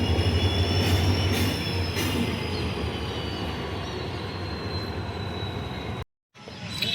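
A freight train hauled by WDG-4 and WDP-4D diesel locomotives rumbles past with a steady roar of rolling wagons and faint high squeals from the wheels, then cuts to silence briefly near the end.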